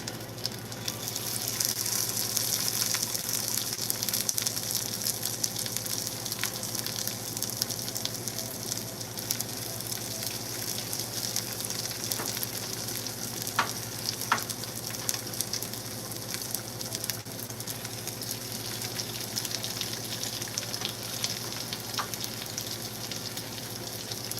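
Steady, continuous sizzling of tuna cakes frying in a hot pan, a dense crackling hiss with occasional sharper pops, close and fairly quiet throughout.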